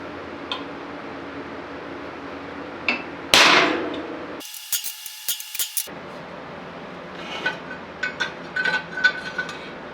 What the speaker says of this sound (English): center punch where we're going to drill our strain relief holes